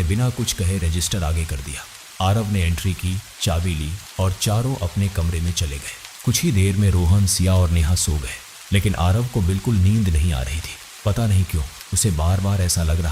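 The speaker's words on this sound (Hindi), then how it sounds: "बाहर बारिश लगातार हो रही थी।" Steady rain falls outside in a constant hiss beneath someone narrating a story.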